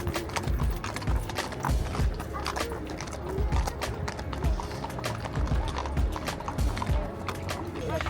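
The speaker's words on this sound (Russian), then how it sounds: "Красивые лошадки проехали." Horses clip-clop past on a street in Kraków, a steady run of sharp hoof strikes moving by at close range with light background bustle and voices.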